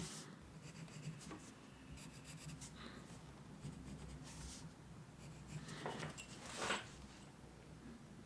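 A pen draws block lettering freehand on paper. Soft, close scratching strokes come in short bursts over a quiet room hiss.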